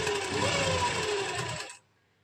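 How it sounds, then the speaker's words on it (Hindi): A sewing machine runs steadily, stitching suit lining fabric together with buckram in small stitches for about a second and a half, then stops abruptly into near silence. "इसमें हम इस तरह से सिलाई लगा देंगे छोटे टांके की बुकरम के साथ साथ"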